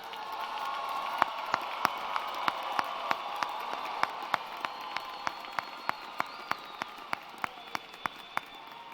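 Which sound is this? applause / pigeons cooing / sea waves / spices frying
applause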